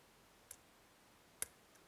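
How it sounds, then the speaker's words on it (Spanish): Faint, isolated clicks from the pins of a TESA TE6 lock being picked, two or three sharp ticks spaced apart in an otherwise quiet room. "Primero un ligero clic, segundo nada, tercero colocado, cuarto un clic, quinto un clic,"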